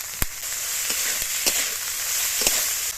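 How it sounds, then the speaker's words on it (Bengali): Chopped cabbage sizzling in a pan with ginger-garlic paste, a steady loud frying hiss broken by occasional sharp pops and crackles of stirring. "এবার দিয়ে দেবো কুচিয়ে রাখা বাঁধাকপি।"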